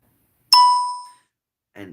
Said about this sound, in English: did you hear that bell as soon as I said that?